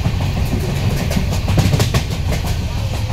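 A moving passenger train heard from inside the carriage on a Thane to Kankavali run through the Konkan region, with a steady loud low rumble and rhythmic wheel clatter continuing throughout with no talk.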